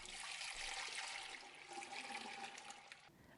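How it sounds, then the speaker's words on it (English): Milk pours steadily into a pot for home cheesemaking, a continuous close, bright splashing rush that fills the moment and then stops abruptly. "So let's add our milk to the pot."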